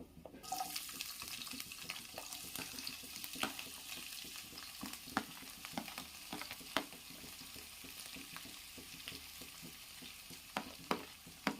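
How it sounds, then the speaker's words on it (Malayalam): Sliced onion, green chilies and curry leaves sauté in a pan for chicken stew, giving a quiet, steady frying hiss with scattered spatula clicks and scrapes, faint and without voices. "സവാളയും പച്ചമുളകും കരിയാപ്പിളയും എല്ലാം കൂടി ഇട്ട് കൊടുത്ത് നമുക്കൊന്ന് വഴറ്റിയെടുക്കാം"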